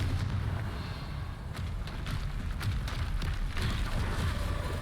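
Confringo blasting spells and other spell effects in Hogwarts Legacy, heard as a rapid series of sharp, popping bursts and crackles over a continuous low rumble, with no talking.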